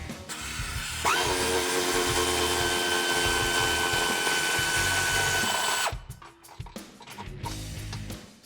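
Power tool whirring steadily as it removes 19 mm frame bolts from a Jeep Wrangler JL during rear bumper removal, a loud continuous run of about five seconds that cuts off, followed by quieter clanks and handling noise.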